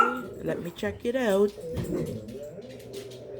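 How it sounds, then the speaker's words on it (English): Several dogs barking, yipping and whimpering indoors in a home during a bluetooth keyboard setup, short sharp yelps and whines overlapping someone talking nearby. "And pardon my dogs, they're very, very noisy."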